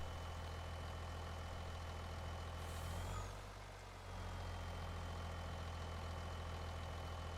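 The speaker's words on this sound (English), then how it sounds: "So, while we've got an empty truck sitting here" Empty truck idling in a farming video game: a steady low engine rumble with a constant drone, a brief hiss near the middle, then the even idle continues alone.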